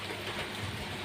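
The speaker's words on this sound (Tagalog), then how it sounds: "Ang lakas ng ulan guys." Heavy rain pours down steadily outdoors, a dense continuous hiss and patter that fills the moment evenly with no pauses.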